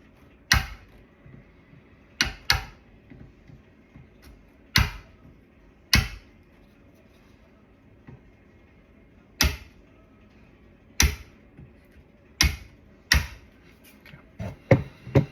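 Steel chisel tapped with a hammer into wood while fitting an Assa Abloy Level Lock+, giving about a dozen sharp, close knocks in an irregular rhythm with quiet gaps between them.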